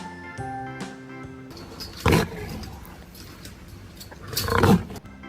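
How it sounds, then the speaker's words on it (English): A lion roars twice, each a loud, rough burst, the second longer and swelling, following a short musical intro in a children's alphabet song. "L for lion."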